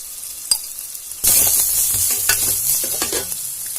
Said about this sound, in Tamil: வெங்காயம் போட்டுக்கலாம். நல்லா வதக்கிக்கோங்க.